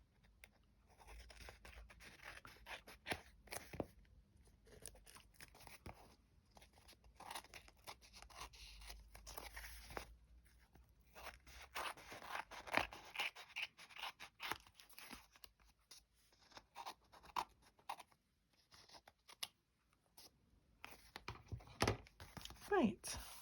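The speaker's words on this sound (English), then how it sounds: "Let me get my scissors and let me just" Scissors snipping around the edges of a paper collage junk journal page, with irregular cuts and crisp paper rustling up close, alongside handling noises.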